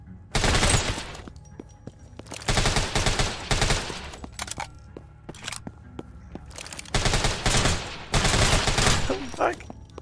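Gunfire in the zombie survival video game Deathly Stillness, repeated loud bursts of rapid automatic shots separated by short pauses, close and punchy with faint background game sound.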